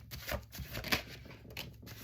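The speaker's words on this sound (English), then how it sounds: "Let's do two more shuffles." Worn tarot cards shuffled by hand give a quiet, close riffling and flicking in several short bursts over about two seconds.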